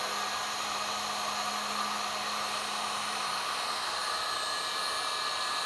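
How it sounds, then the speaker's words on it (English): Heat gun running on its low heat setting to shrink tubing in an engine bay, a steady close whirring blower roar with an even hum that holds unchanged throughout, no speech. "my heat gun has 2 heat settings on it. And I just put it on the low one"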